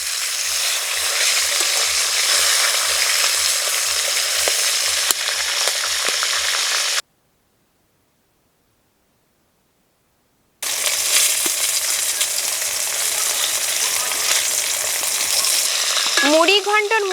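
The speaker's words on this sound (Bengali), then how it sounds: "মুড়ো দুখানি উল্টে পাল্টে লাল লাল করে ভেজে নিয়েছি।" Fish heads frying in hot oil in a pan and being turned, a steady dense sizzle with scraping stirs, broken by a pause of silence before the sizzling resumes strongly.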